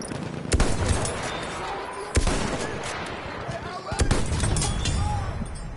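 Machine gun fire in Battlefield 1 comes as sharp cracking bursts and scattered shots across a noisy battlefield, mixed with explosions and heard under excited talk.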